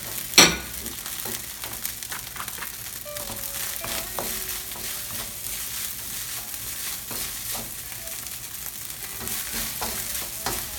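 Fried rice stir-fried in a pan, with steady crackling sizzle, repeated scraping and clinking of a utensil against the pan, and one sharp clatter near the start.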